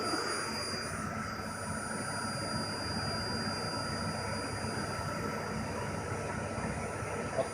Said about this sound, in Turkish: fakirde e, vakum gücü motor hız ayarı olduğu için minimumda şu anda. maksimum aldığımız zaman